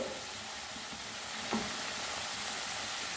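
Tomato and ginger frying in oil with spices, a steady close sizzle with a faint stir or scrape partway through and no voices.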